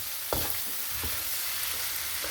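Sinigang fried rice made with sticky Japanese rice is stir-fried in a pan. A soft, steady sizzle runs throughout, broken by a few scraping and clacking strokes of a utensil, and nobody speaks.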